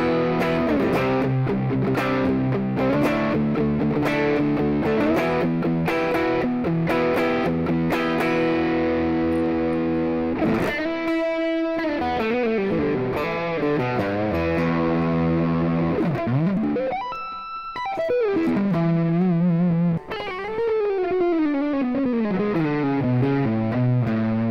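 Electric guitar played through a Joyo Maximum distortion pedal with the boost engaged and gain high, giving a loud, sustained, saturated tone with ringing chords and bending notes, no talking.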